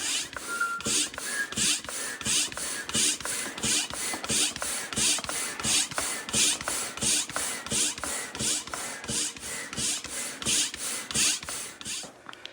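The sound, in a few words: hand pump inflating an inflatable paddle board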